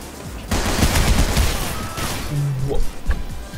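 Rapid gunfire in the video game Tactical Intervention: a loud, dense burst of shots that keeps going for a few seconds, then tapers into scattered single shots and thuds.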